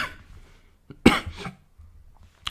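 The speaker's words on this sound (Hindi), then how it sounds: "ये तो खांसी तो और ही परेशान कर रखी है" A single sharp cough, close and fairly loud, with a softer throat-clearing sound right after it and quiet breaths on either side.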